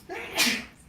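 One sharp sneeze from a person, a quick breathy burst peaking mid-clip and fading away, close and fairly loud against a quiet indoor background with no talk.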